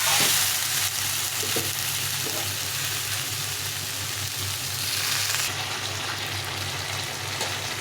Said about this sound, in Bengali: ভালো করে ভেজে ভেজে নিতে হবে